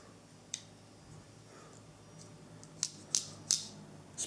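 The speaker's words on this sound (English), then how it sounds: "a pair of scissors that actually works decent" Scissors on a Workpro 18-in-1 multi tool snipping, giving a few sharp, close metallic clicks: one isolated snip early, then three quick snips near the end over quiet room tone.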